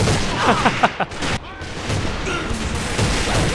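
Rapid gunfire in the online shooter AVA, bursts of close, loud shots in quick succession with a couple of heavier booms, all blended with busy battlefield noise and no clear talking.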